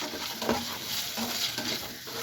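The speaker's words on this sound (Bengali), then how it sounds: "পেঁয়াজ এবং রসুনগুলো বেশি কিছুক্ষণের জন্য ভালো করে ভেজে নিচ্ছি" Onions and whole garlic cloves fry in oil for a dry hilsa fish curry with potato and eggplant, giving a steady close sizzle with the scrape and clink of a stirring spoon against the pan.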